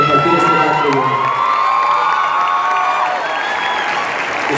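Loud, dense theatre audience applause mixed with cheering and whoops, with a sustained sung or shouted tone running through, steady throughout at close range.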